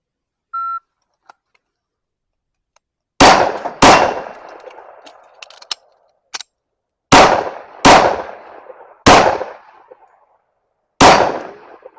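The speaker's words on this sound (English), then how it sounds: "we're gonna run a couple more rounds here out of the single port" A 1911 pistol fires through a single-port compensator: six loud, sharp cracks, unevenly spaced and each ringing briefly, with a couple of faint clicks in the quiet gaps between.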